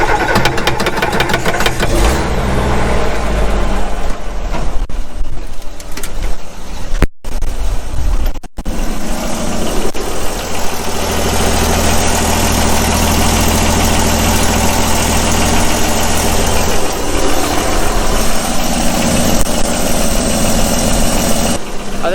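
An engine cranks and fires up, stumbles briefly, then settles into a loud, steady idle with a deep rumble and vibration, close by.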